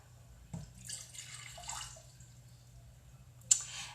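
Half a cup of water runs briefly into a container for pickling onions, with a soft splash and a drip near the end, over a low steady hum.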